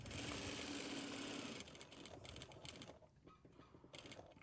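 A sewing machine stitches a flap and spade pocket in a steady rapid whirring run, then stops and restarts in short bursts, close and fairly quiet.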